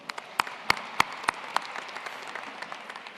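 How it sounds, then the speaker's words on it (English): Scattered applause from a commencement audience at Virginia State University, a handful of distinct claps standing out near the start before thinning into a softer, sparse patter across the hall. "we can give her a round of applause"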